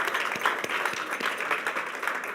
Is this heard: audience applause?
yes